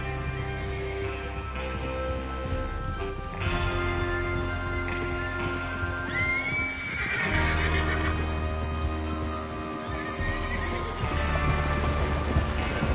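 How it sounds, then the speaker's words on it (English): Horses in Red Dead Redemption 2 whinny and neigh loudly over clip-clopping hooves, several calls rising and falling across a steady galloping bed. "Get your horses ready."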